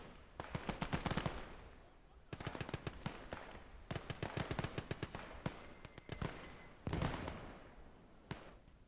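Mortar fire in the Gates of Hell WWII game, set in the Hurtgen Forest: bursts of sharp explosive cracks and rattling volleys arrive in clusters with short gaps, at moderate distance and fairly quiet, with faint speech underneath.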